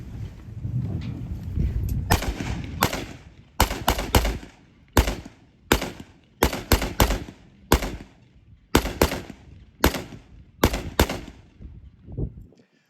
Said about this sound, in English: The M1 Garand was an awesome system, and it was modified into the M14 demonstrated here.